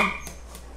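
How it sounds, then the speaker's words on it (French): A single short bark or yip from a pet dog, sharp and fairly close, fading quickly into a quiet room tone with no talking over it. "C'est mon chien."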